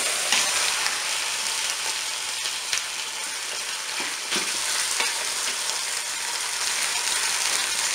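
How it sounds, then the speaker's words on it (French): A turkey thigh browning in a Cookeo multicooker gives a loud, continuous sizzle with dense crackling and occasional brief spits, heard close up and alone for the whole stretch. "Je vais la retourner pour faire dorer l'autre côté."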